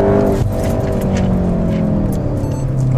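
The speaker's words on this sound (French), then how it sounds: "À moindre accélération, on est collé." VW Golf 7 R accelerating hard, a loud close engine roar with rising tone that holds strongly for about three seconds.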